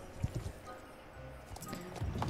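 Horse hooves clip-clopping in the online horse-riding game Star Stable, a soft, uneven run of hoof thuds at moderate distance with faint game ambience and no speech.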